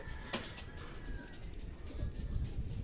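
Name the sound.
racing pigeons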